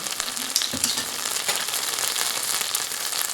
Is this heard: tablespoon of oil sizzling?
yes